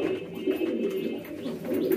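Pigeons coo and scuffle over a nest, with a steady, fairly close run of low, throaty cooing filling the whole stretch and no one speaking.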